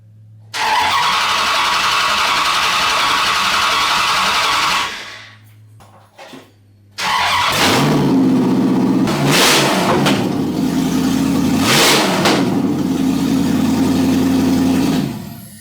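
A V8 engine swapped into a Jeep TJ cranks and catches, runs loud and close for a few seconds, cuts out, then restarts and revs repeatedly in rising and falling bursts over a rough idle.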